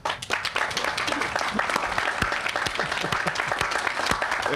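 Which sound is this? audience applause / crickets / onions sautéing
audience applause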